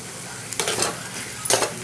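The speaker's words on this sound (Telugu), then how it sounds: "కిందన అడుగున అంటుకోకుండా మనం ఇలాగా కలుపుకుంటూ ఉండాలి, మధ్యలో చూస్తూ ఉండాలి" Garlic and ginger pieces being stirred in a frying pan, a soft sizzle under two brief bursts of scraping as the food is moved around, close and fairly quiet.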